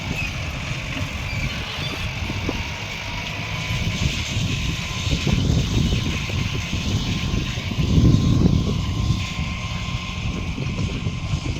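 Kubota M9000 tractor running steadily while mowing grass for cattle, a continuous low engine drone with wind noise outdoors, swelling louder briefly near the end.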